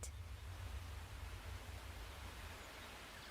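Ambient outdoor atmosphere of Harvest Vale, a farming-life video game area: a soft, steady wash of broadband noise like distant wind or flowing water, with a low rumble underneath, continuous and faint with no talking.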